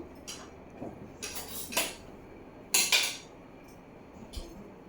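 A spoon clinks and scrapes against a plate while mixing khichdi with pachi pulusu, in a few short irregular bursts heard close up with no talking.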